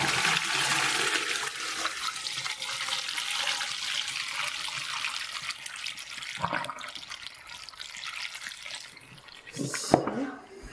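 Brine water gushes and drains steadily from a container of curing olives with a bright rushing hiss, ending in a few gurgles and a small splash near the end.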